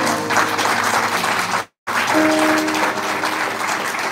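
Church congregation applauding and cheering, a loud sustained wash of clapping with voices rising through it, briefly cut to silence before resuming just as full.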